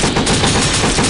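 Dense, loud machine-gun fire in the Metal Slug-style game Full Metal Sister, a continuous rapid rattle of shots filling the whole moment with no pause.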